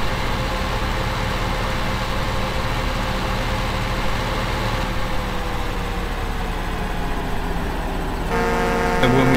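A tractor engine in Farming Simulator 15 drones steadily at a low idle-like hum throughout, with a slight shift in tone near the end as a higher whine joins in.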